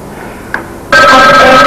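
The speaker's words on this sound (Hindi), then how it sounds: "ऐसे भी क्या खेल कि आपको फोन की बेल नहीं सुनाई दे रही?" Telephone bell starts ringing abruptly after a quiet moment, a loud, continuous, near ring.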